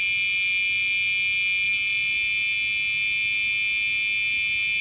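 A 555 timer oscillator circuit gives off a steady, loud electronic buzz that holds through the whole clip, with a brief break near the middle where it switches off and on. Only faint background hum lies under it, and no one speaks.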